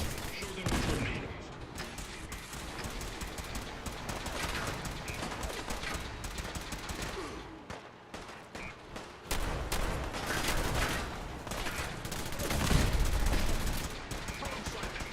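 Automated turrets in Fallout 4 blaze away in rapid, sustained bursts of gunfire, a dense crackling fusillade that runs nearly the whole time with brief lulls and a louder stretch near the end.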